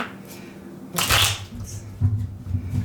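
A burst of riffling cards around the one-second mark, followed by softer shuffling and handling, with some low background noise throughout.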